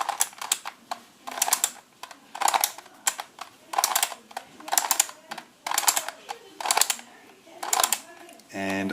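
A Skewb puzzle being twisted by hand, heard as a series of quick plastic clicks and rattles in regular bursts, close and fairly loud, with brief spoken voice around them.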